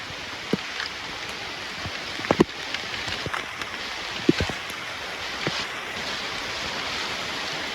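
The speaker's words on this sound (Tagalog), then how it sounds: "Lakas na naman ng ulan." Heavy typhoon rain falls in a forest near San Pablo City, giving a steady, soft broadband hiss broken by scattered nearby knocks and drips. No one talks.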